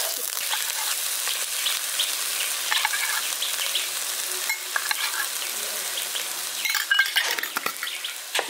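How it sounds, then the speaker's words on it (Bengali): Chopped coriander and raw mustard oil being stirred into a bottle gourd greens mash in a hot pan, giving a steady close sizzle with scraping stir strokes throughout. "ধনেপাতাটা কুচনোটা দিয়ে ভালো করে মিশিয়ে দিচ্ছি।"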